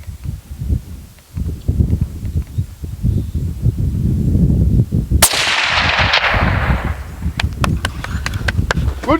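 A hunting rifle fires once on a South African hunt, a sharp, loud crack that rolls off into a fading echo, following low murmured voices and shuffling. Faint clicks come afterward.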